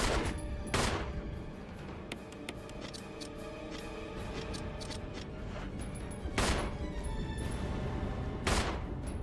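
Gunfire in the video game Resident Evil HD, a few sharp loud shots spaced several seconds apart over a dense, noisy game background.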